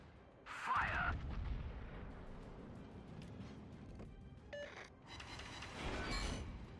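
Naval gunfire from warship batteries in World of Warships, a sharp blast followed by rolling booms and rumbling under battle noise, with a voice speaking over it.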